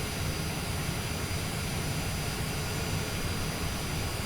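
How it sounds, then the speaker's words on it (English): In a flight simulator game, an airliner taxis toward the runway with a steady, even jet engine whine and hiss, no talk over it. "Just taxiing on down here in Taxiway Alpha"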